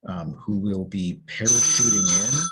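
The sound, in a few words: phone ringing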